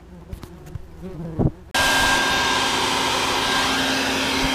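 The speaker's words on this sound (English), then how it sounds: "Now I just vacuum up the ones that are left, which includes all the ones by the light." A vacuum cleaner switches on with an abrupt start and runs as a loud, steady whine, sucking up the yellowjackets left after a nest was pulled from behind insulation, with faint buzzing and clatter just before it starts.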